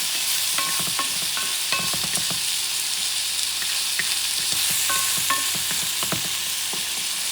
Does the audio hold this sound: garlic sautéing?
yes